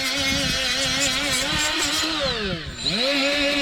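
Angle grinder scuffing the metal of a 4 wheeler hitch for a wagon, a loud steady whine with wavering pitch that dips briefly near the end before rising again, running continuously with no talk.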